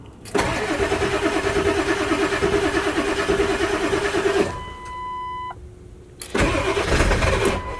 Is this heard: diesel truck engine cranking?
yes